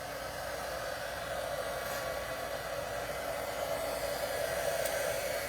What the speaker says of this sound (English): I'm gonna turn on my heat tool here.